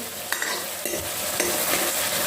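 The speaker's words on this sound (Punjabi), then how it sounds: "ਹੁਣ ਟਮਾਟਰ ਭੁੰਨ ਦੀਆਂ" Tomatoes sizzle in hot oil for a tempering while a spoon stirs and scrapes the pan. A dense, close frying hiss carries a few quick knocks.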